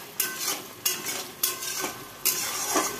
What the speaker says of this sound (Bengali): তো চলো কিছুক্ষণ ভালো করে কষিয়ে নিই, কারণ দইয়ের থেকেও তেল ছাড়বে